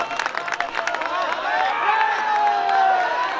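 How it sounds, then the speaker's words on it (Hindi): Audience at a mushaira poetry gathering in Parbhani clapping and cheering steadily, a crowd roar with whistles and shouts over dense applause, continuous and fairly loud throughout. "दोबारा जोरदार तालियों से इस्तेमाल करके बता दीजिए"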